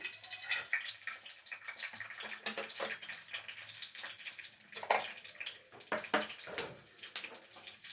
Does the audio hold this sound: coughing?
no